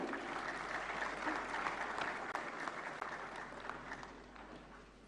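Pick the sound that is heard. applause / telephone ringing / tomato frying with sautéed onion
applause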